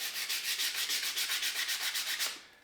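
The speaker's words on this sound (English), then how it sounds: "what I'm going to do is come back through with this 120 grit," Wood is hand-sanded with 120 grit sandpaper in quick, even back-and-forth strokes, a close, rhythmic scratchy rasp that runs steadily and then stops.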